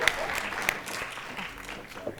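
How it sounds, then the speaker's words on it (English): Applause fills an auditorium at a school board of education meeting, a diffuse, moderately distant wash of clapping from a crowd, steady throughout with a few sharper claps and faint voices mixed in. "please give them another round of applause as they exit the auditorium"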